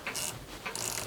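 A tap wrench turns a 2BH tap into aluminium on a lathe, giving two bursts of dry metallic ratcheting clicks separated by a short pause, close and fairly quiet.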